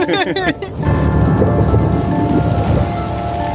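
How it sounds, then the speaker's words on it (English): Thunder rolls over an archaeological dig at a 12th-century Norman hall, a loud low rumble following a short burst of voices and continuing steadily as rain patters nearby. "you can hear all that thunder coming"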